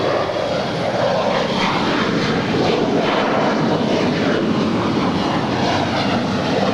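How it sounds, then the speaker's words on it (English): An Alaska SkyWest Embraer E175 LR jet roars steadily as it departs LAX. The thick, loud engine noise holds throughout with no pauses. "This is Alaska SkyWest 3306 departing to Austin. It's a 4-year-old Embraer E175 LR."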